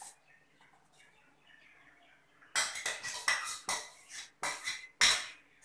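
Ground aloe vera gel goes into a cooking pot: a quiet start, then a run of close, clattering knocks and scrapes against the metal pot.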